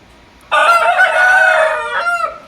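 An Indian rooster of the Rich Almond colour, kept with a hen, crows once loudly and close by, a single sustained cock-a-doodle-doo that holds steady and then tails off with a fading final note.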